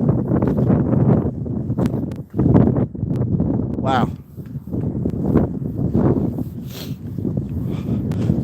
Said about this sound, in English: It is so windy right now.